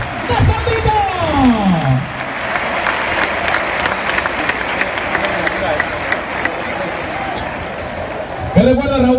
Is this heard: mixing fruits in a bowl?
no